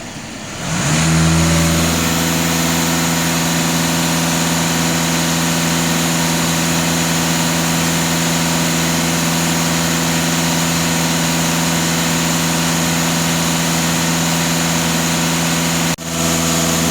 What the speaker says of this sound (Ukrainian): Як бачимо, нуль на холостому ході, даю газ в пол.